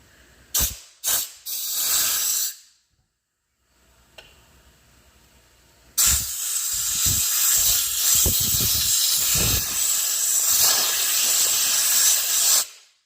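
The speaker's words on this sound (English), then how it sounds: "So you have your air compressor, spray all the debris." A few short bursts of compressed air from an air compressor blowing debris out of a beeswax candle mold, then a long, loud continuous blast of hissing air with fluctuating intensity, close by.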